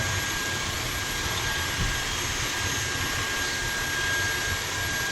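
Vacuum cleaner with good suction pulling dirt and debris out of a very dirty heat baseboard, a steady loud broadband whoosh and drone running unbroken throughout, with no talking over it.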